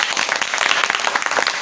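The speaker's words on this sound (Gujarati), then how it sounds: "તો ચલો થઈ જાય એકવાર તાળીઓ।" Audience applause at a comedy magic show: a brief burst of many hands clapping, moderately loud and uneven, without speech.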